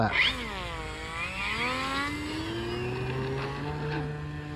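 Small engine of an RC model Cessna 182 airplane revving up for takeoff, a loud buzzing drone whose pitch climbs and then holds steady as it pulls away, with faint background noise.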